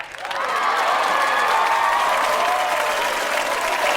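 A studio audience breaks into loud, sustained applause for a comedian guest on a talk show, swelling within half a second and holding steady as a dense wash of clapping with some crowd noise.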